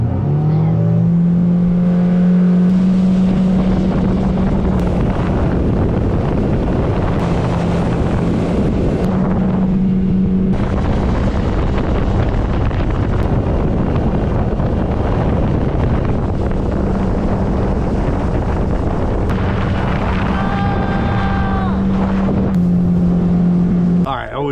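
A boat runs fast over a lake on a roughly three-mile trip to a fishing spot in Florida, its engine a steady loud drone with wind buffeting the microphone and water rushing throughout, while people talk over it in places.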